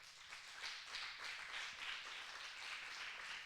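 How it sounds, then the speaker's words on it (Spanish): A church congregation claps for the Lord during a Spanish-language sermon, a faint, even patter of many hands sustained from start to finish without speech. "Dele un aplauso al Señor"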